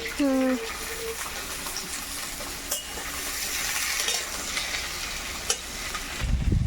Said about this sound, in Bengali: তো ঢ্যাঁড়স ভাজাটা চাপিয়ে দিয়ে এটা হতে থাকবো